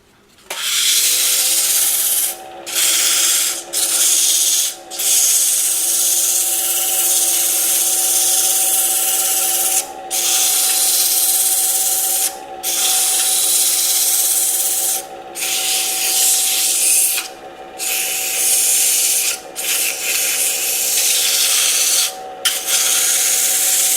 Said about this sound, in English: If I'm going to sand the inside, I have to do it now.